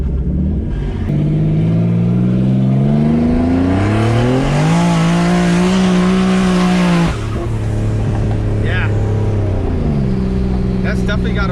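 A twin turbo Infiniti G37 coupe accelerates hard with its tires spinning, and its loud engine note climbs steeply in pitch through a long pull before dropping back and rising again. The sound is close and dominant throughout.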